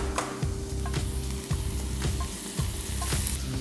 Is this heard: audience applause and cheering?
no